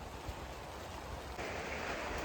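Heavy rain pours steadily on a garden greenhouse, a dense, loud hiss of drops that swells a little stronger partway through, with no voices.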